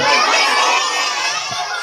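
A group of children at a birthday party shouting a greeting together, a loud, dense burst of overlapping young voices that stays strong before tapering slightly at the end.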